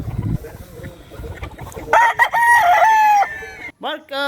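A gamefowl rooster on a breeding farm crows loudly and close by in one long drawn-out call, followed by a short second call. Soft clucking and farmyard bustle come before it.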